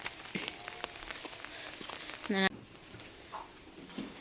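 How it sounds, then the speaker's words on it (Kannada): Steady rain patters across the whole clip, with brief sharper sounds mixed in and a short burst of noise near the middle. "ಭಾರಿ ಬರ್ಸ ಹೆವಿ ಮಳೆ"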